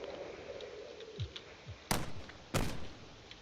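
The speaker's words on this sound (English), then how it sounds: "You can see there's still cannon fire in the distance over there from the battle." Distant cannon fire from a space battle in a video game, frigates and battleships exchanging shots far off: two sharp booming reports about half a second apart over a low rumbling background, with faint smaller thuds before them.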